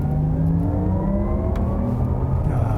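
A Porsche Taycan GTS electric car under way gives a continuous synthetic whirring hum with layered tones that slowly shift in pitch, loud and close with steady road noise beneath, no voices.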